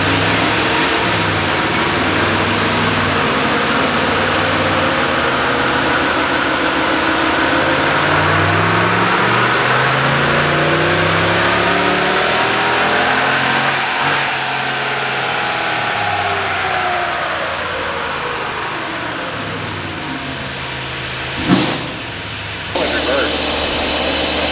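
A 2019 Ram Pulsar pickup engine revs on a dyno in 5th gear with no load, climbing steadily in pitch then easing back down, loud and continuous for the whole stretch, ending with a brief thump.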